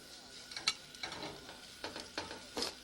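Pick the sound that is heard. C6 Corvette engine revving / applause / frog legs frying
frog legs frying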